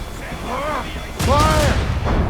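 A ship's cannons fire in Assassin's Creed Rogue, a sudden loud blast partway through breaking over shouted voices of the crew.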